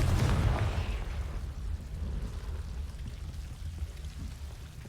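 A Confringo blasting spell bursts in Hogwarts Legacy, a loud boom at the start that rolls into a rumbling, crackling decay fading over several seconds.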